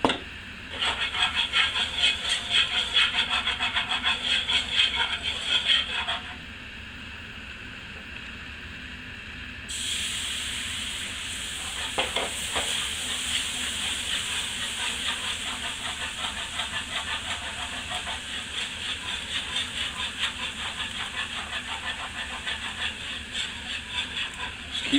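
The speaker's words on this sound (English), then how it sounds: "Just keep stirring this gravy and it's going to reduce down and be a perfect consistency." Gravy for a breakfast pizza simmers and is stirred in a pan, giving a steady broad hiss and bubbling that drops and shifts partway through, with no one talking.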